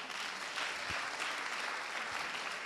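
A church congregation applauding together at an evening service, a steady dense wash of clapping that carries evenly from start to finish, moderately loud with no talk over it.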